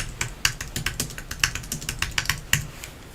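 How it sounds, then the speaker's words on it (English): A search is typed on a computer keyboard, with quick, irregular clicking keystrokes heard close up and alone, bursts of several keys separated by brief pauses. "you're going to type crafting with April"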